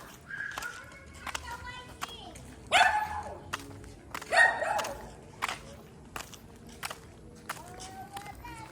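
Several sharp dog barks ring out at a moderate distance over outdoor background noise, with a louder burst near the middle and another shortly after.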